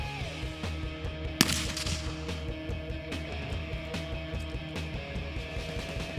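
A single sharp crack rings out from a .223 rifle firing a 10X Tactical PolyFrang polymer frangible round at a 50-yard range. A brief echoing tail follows over low, steady background noise.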